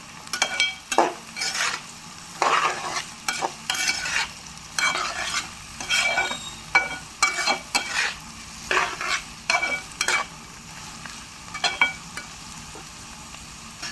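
Bitter gourd fry is stirred in a pan over a faint sizzle. A spatula scrapes and clinks close by in an irregular rhythm of short strokes. No one speaks.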